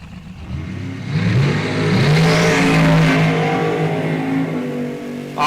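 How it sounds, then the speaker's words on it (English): A pro charged, fuel-injected big block Chevy top dragster at an NHRA drag race launching and accelerating, a loud roaring engine sweep rising in pitch and staying close and dominant throughout. "top dragster, pro charged, big block Chev,"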